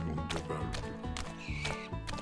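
A horse neighs in the farming game Farmer's Life, with a loud whinny sounding twice over busy game audio that includes hoofbeats and other farm noises.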